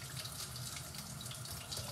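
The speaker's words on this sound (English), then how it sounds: "Like, back to normal, no longer trickling." A sink faucet runs at normal water pressure in a steady, even stream, fairly quiet and close, with no talking.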